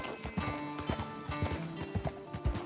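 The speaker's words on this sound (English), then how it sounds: "Oh, man, it's a horse." Horse hooves clip-clopping in a video game, a steady rhythmic run of close, sharp hoof strikes with tonal game music or ambience underneath and no talking.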